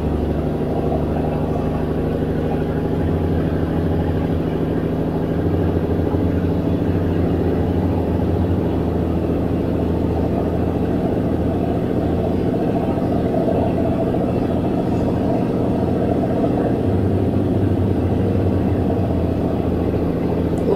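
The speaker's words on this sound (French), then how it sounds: "J'essaie de faire le camion regagner de la vitesse." A truck engine in a driving video game drones steadily as the truck tries to regain speed, a continuous low rumble with a hum over it that holds even and loud throughout, with nobody speaking.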